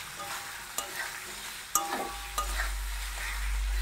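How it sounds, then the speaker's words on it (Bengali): Mutton dropped into spices frying in oil, with a steady broadband sizzle and several sharp clinks of a spoon stirring against the pan; close and alone, with no talk. "মশলাটা এর মধ্যে আমি এখন মাংসটা দিয়ে দেবো।"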